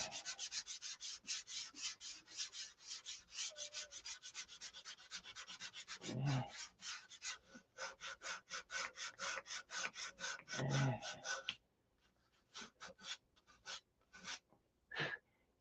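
Close, rhythmic rasping strokes of hand sanding on wood, quick back-and-forth passes in bursts with a short pause before a few final strokes.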